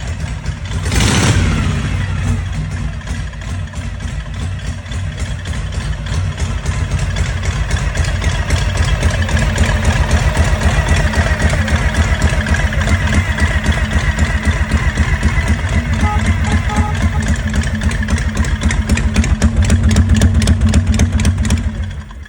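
A vintage motorcycle engine idles loudly and close, its rapid, even firing pulses thumping steadily throughout, with a brief sharper burst near the start.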